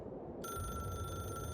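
A telephone bell rings steadily within a K-pop track, a continuous electronic trill that starts abruptly and holds over a low music bed.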